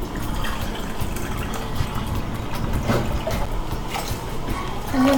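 Water poured onto flax seeds in a bowl for raw flax crackers, a continuous, moderately loud filling sound with faint splashes throughout, no talk.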